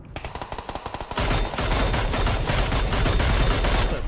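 Rapid automatic gunfire from a shooting video game, loud and close: a rhythmic burst of shots in the first second, then a dense, continuous barrage of overlapping fire that keeps going to the end.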